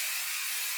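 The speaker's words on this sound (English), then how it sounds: "Okay, and spray." Hairspray from an aerosol can hisses in one short, close, steady burst while hair is being curled with a flat iron.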